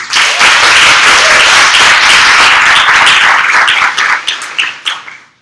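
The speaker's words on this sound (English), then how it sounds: "Can I get another round of applause for our chair, James Orton?" An audience at a public forum on police accountability bursts into loud, sustained applause that tapers off into scattered claps after about five seconds.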